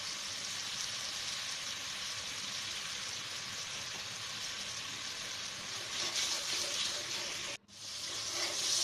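Ginger-garlic paste and spices fry in a hot pan with a steady, close, broadband sizzle, a brief dip near the end before the hiss resumes; no voices.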